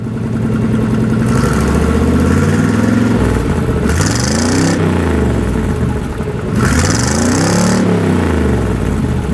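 A Chevrolet square body pickup truck engine idles loudly and close by, its steady low rumble rising and falling slightly with a couple of brief throttle surges.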